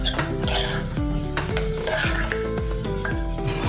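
A spoon stirs spinach eggplant dal with green onion leaves in a cooking pot, giving light scraping and clinking against the metal over a steady bed of background music.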